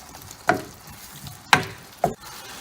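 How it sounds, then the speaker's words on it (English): Couscous being stir-fried in a pan, three sharp, separate scrapes of a utensil over a quiet background hiss, close and distinct, with no voices. "you want to stir fry it so that the moisture reduces"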